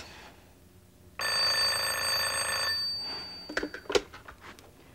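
A telephone rings steadily for about a second and a half at moderate loudness in an indoor domestic setting, then stops as a voice begins speaking.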